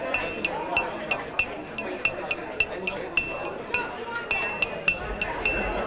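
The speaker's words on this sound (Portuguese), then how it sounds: "Ouvia-se o barulho do metal contra o vidro. Tim, tim, tim, tim." An aluminium spoon stirs coffee with milk in a glass, striking the sides in a steady run of bright, close clinks, roughly two or three per second, over a low background.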